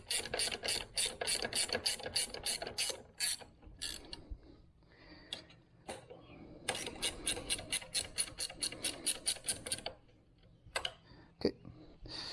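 Bolts are tightened on a Hepco & Becker crash bar mount on a Triumph Tiger 900 GT Pro, a hand ratchet clicking in rapid close bursts separated by short pauses.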